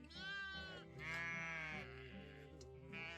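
A sheep on a Scottish farm lets out a long, wavering bleat nearby. A second, higher bleat follows, fairly quiet against a calm background.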